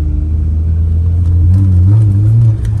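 A Seat Ibiza TDI diesel car idles and pulls through a slow U-turn. It gives a steady, close, low engine rumble with a slight rise in revs toward the end, and no one speaks.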